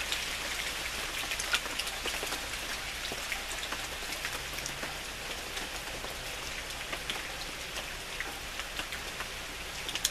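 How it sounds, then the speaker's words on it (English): Light rain falls steadily nearby, a soft, even patter of drops with no other sounds. "It's raining now, right? It means, you know, just lightly raining."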